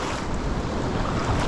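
Big ocean waves surge and wash along a shore in a steady, loud roar, with wind buffeting the microphone throughout.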